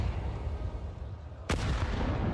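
A grenade detonates in Counter-Strike 2 during an esports match: one sharp, loud blast cuts through steady background game noise and leaves a rumbling tail.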